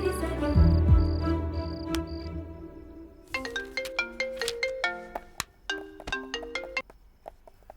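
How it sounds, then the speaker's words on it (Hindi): A phone ringtone plays for an outgoing call in a Hindi-dubbed South Indian film, with repeated beeping tones at first followed by a bright, melodic run of chiming notes, close and clear with no talk. "रमेश को कॉल करती हूँ।"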